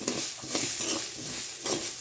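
Lentils roasting in ghee in a pan for a Vadakkan-style parippu curry, stirred with a spoon: a close, steady sizzle with soft scraping strokes that swell and fade in a slow rhythm, no voices.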